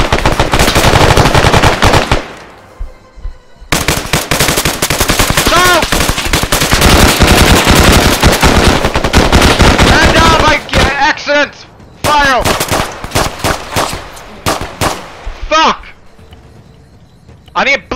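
Heavy video game gunfire, dense rapid machine-gun bursts and shots that are loud and continuous, then breaking into shorter volleys, with a player shouting over them.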